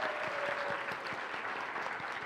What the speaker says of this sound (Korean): 교통대 순장님들을 위해서 큰 박수로 축복하고 격려하겠습니다